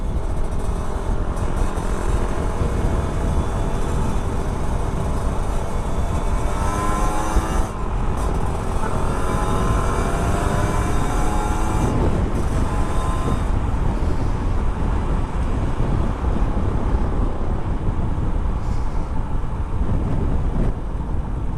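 A Kawasaki Ninja 150cc two-stroke motorcycle accelerates hard along a straight track, its engine note rising in repeated surges under steady loud wind and road noise.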